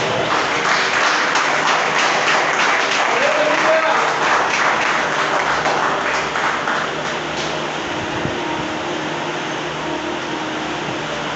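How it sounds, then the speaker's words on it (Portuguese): A church congregation claps in a sustained wash of applause that fades gradually over several seconds, leaving a steady low hum of room noise. "Eu, se fosse você, aplaudir essa palavra."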